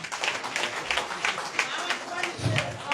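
Rhythmic clapping for the mayor at an SLPP political gathering in Bombali, steady repeated claps running under a speaking voice throughout.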